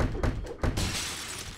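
Glass barriers shattering in the video game Spider-Man 2: a few heavy thumps, then a bright crash of breaking glass with a hissing, scattering tail.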